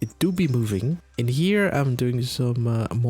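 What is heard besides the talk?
No everyday noise stands out behind the speech.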